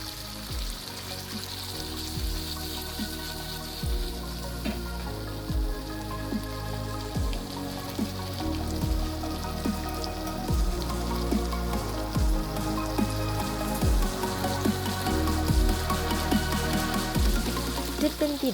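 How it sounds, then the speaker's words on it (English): Vegetables with red bell pepper sautéing in hot oil over a high flame, a continuous crackling sizzle with dense popping spatters and scraping stir clicks, fairly close and steady throughout. "Heat a pan with oil and saute all the vegetables on high flame."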